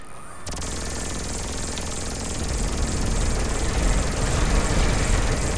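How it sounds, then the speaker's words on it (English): Helicopter in the video game GTA 5, a loud steady rotor-and-engine drone that starts abruptly and swells slightly louder toward the end, with no talk. "Is this little helicopter thing."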